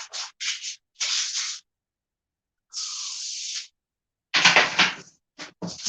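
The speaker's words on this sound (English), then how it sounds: "Why would you put non-stick spray on a non-stick sheet?" Non-stick cooking spray hisses onto parchment paper in several short close bursts, one longer steady spray in the middle, then a quick rustle and further spurts.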